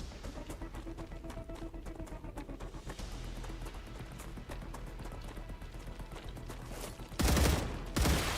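Rapid bursts of gunfire in the video game StarRupture, a dense rattling volley of repeated shots running steadily, then a louder, harsher burst near the end, with no talk over it.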